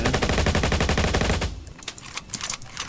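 Rapid automatic gunfire in the Roblox game Jailbreak, a dense, loud burst of evenly spaced shots that stops halfway through, followed by scattered faint clicks and pops.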